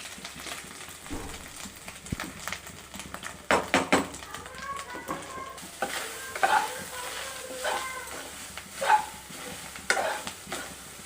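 Coconut and other ingredients for neer urundai are stirred in a hot pan, scraping taps and clinks over a soft background sizzle, irregular and close.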